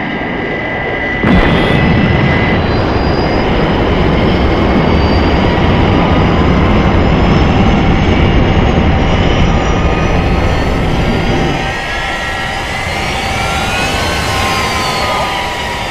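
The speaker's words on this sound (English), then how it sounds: "Thunderbird 2 has touched down at London, Father." Thunderbird 2 aircraft touching down at London, a loud continuous jet roar with whining high tones that holds steady, then eases slightly as it settles.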